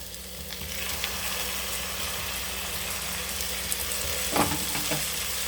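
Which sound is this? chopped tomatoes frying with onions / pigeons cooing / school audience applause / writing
chopped tomatoes frying with onions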